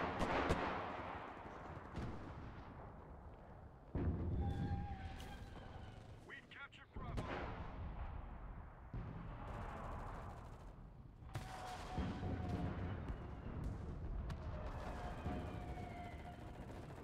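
Bombing in the World War II shooter game Enlisted: repeated heavy explosion bursts and scattered gunfire roll through the scene, loud thuds recurring every few seconds amid battlefield noise, with a player talking over parts of it.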